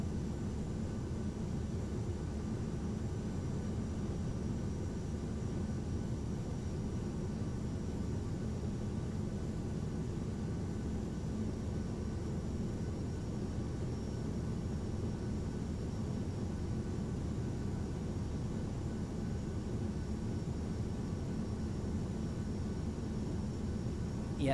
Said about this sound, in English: now it's just a case of bringing the aircraft down over Liverpool